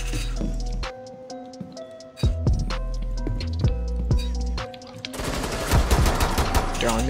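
Rapid automatic gunfire and single shots crackle in Rainbow Six Siege, with bursts, clinks and tonal game effects layered over one another, and the firing grows denser and louder toward the end.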